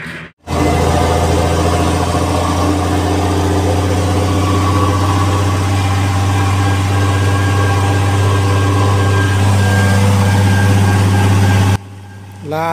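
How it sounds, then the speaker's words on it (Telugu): A lorry engine idling loudly, a heavy, constant low rumble close by that fills nearly the whole stretch before cutting off abruptly near the end. "లారీ గట్టిగా సౌండ్ వచ్చేసిందండి బాబా."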